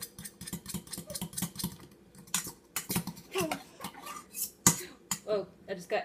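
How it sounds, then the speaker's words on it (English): Eggs are whisked in a bowl during home breakfast cooking, with rapid rhythmic clinks and taps of a utensil against the dish, close and fairly quiet, with brief speech mixed in. "Mix the eggs."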